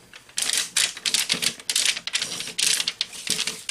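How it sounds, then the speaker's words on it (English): Sheet metal pliers crimp a double fold shut on a sheet metal piece, giving a quick run of sharp clicks and metallic crunches in uneven bursts, close and fairly loud, with no talk. "So I just get that started over on that double fold where I can grab it now and just crimp it shut."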